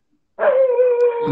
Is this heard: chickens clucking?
no